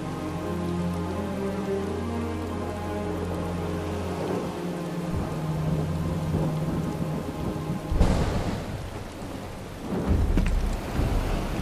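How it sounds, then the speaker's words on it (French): Steady heavy rain falls in a Final Fantasy VII Rebirth scene, joined by a loud crack of thunder with a rolling rumble that fades, then a second lower rumble near the end, with no talk. "Il pleut des cordes."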